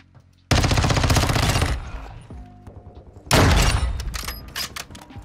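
Sniper rifle shots in Call of Duty Modern Warfare 2, using the Victus: two loud, booming reports, each with a long rolling decay, the second following about three seconds after the first.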